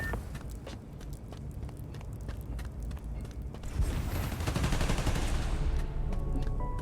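Gunfire in the Marvel's Spider-Man: Miles Morales video game, a rapid stream of sharp shots over a dense, rumbling action backdrop that grows louder and busier partway through.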